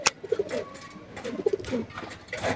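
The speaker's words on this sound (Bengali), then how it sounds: "ভিডিওর শুরুতে দেখতে পাচ্ছেন একটি সিলভার কবুতর, সিলভার নর কবুতর" A silver male pigeon coos close by in short repeated bursts, soft throaty calls with brief pauses between them and no voices.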